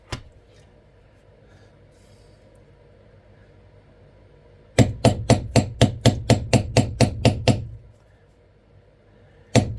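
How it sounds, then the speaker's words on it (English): A beveling tool is struck on leather in a quick, regular run of about a dozen sharp mallet taps, with a few isolated knocks before and after against quiet background. "I'll probably have to come at this with a couple of different beveling tools"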